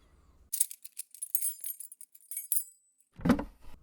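A bunch of keys jangles in short metallic bursts of clinks and rattles, close and crisp, followed by a pause and a final louder jingle.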